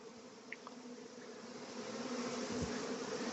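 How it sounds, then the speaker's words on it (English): A swarm of honey bees buzzes steadily as the bees leave a box and fly back up to a swarm hanging high overhead. The hum is dense and continuous at a moderate distance and grows slightly louder toward the end. "So they are leaving this box and going back up to where the swarm is."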